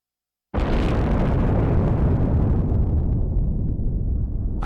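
Nuclear explosions from the video game Ace Combat Zero roar in a sudden, massive blast that holds as a dense, sustained rumble for several seconds, loud and with no voices over it.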